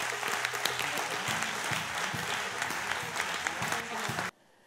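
A church congregation at an evening prayer service claps in a loud, sustained burst of applause with scattered cheers, then it cuts off abruptly into quiet.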